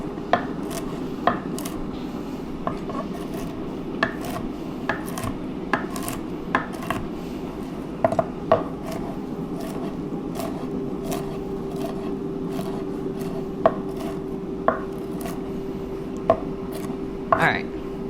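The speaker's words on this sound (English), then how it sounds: "So I'm going to chop these roughly, real quick." Walnuts being roughly chopped with a knife on a board, a quick run of sharp irregular chops and taps over a steady background hum, with a voice talking at times.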